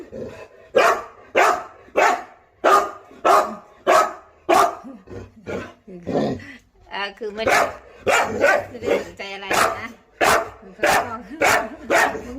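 A dog barks in a steady series of loud, regular barks that continue through most of the stretch, with a person talking between and over the barking.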